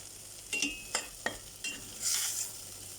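Fried dal and rice mixture for kitchri being stirred in a pot: several close scraping strokes of a spoon against the pot, then a short burst of louder sizzling hiss, with no talking.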